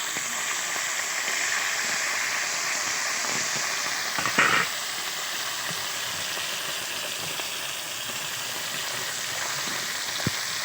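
Silver carp fish fries in a pan with an even, gentle sizzle, broken midway by a short clattering knock as the fish is turned over.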